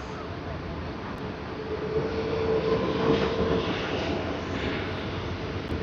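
Thai Airways airliner on flight TG471 from Bangkok at Sydney Airport, a steady broadband jet roar building slightly and holding at moderate distance, with a faint tonal whine through the middle, no talk.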